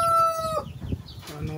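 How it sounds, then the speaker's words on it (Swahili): A Silkie rooster, an ornamental fluffy-feathered fowl, lets out a brief, close crow that breaks off into low clucks and soft farmyard murmuring. "Jogoo huyo hapo, jogoo wa silki."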